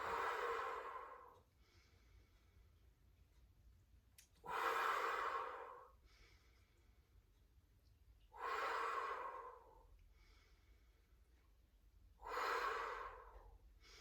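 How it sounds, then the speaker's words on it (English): Deep yoga breaths, four slow rhythmic rounds of long airy inhales and exhales, close and soft with quiet pauses between. "great big deep breath in"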